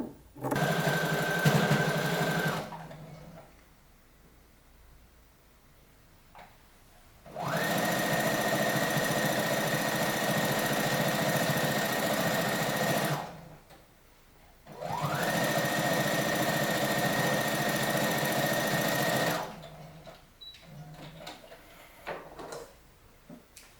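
Sewing machine stitching fabric for a two-piece outfit, running in three long steady whirring bursts with short quiet pauses and small handling noises between them.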